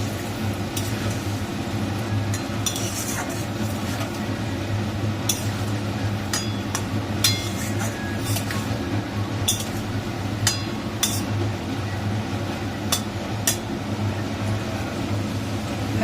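Fish and potatoes are stirred into a simmering cumin curry in a pan, bringing light metallic clinks and scrapes that come irregularly over a steady cooking hiss and hum.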